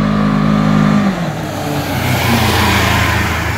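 The engine of a 2019 Polaris Ranger XP 1000 side-by-side runs in performance mode, with a loud steady drone that drops after a second, then builds again as it accelerates across a parking lot, close and with no talk.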